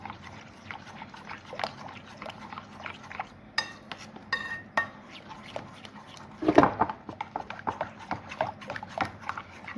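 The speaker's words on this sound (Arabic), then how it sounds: "لازم ادوب الدقيق كده، ادوبه قوي قوي." A batter of flour, starch, turmeric and cumin being whisked vigorously in a bowl, heard as quick, uneven clinks and scrapes of the utensil against the bowl close up, with no talking.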